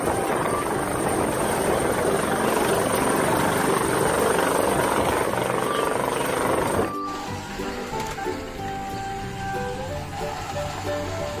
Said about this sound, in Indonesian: Ada helikopter.